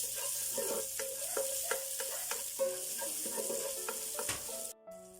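Onions and garlic frying in a pan, a steady sizzle with repeated scraping and clinking of a spatula stirring, close and fairly loud, cutting off briefly near the end.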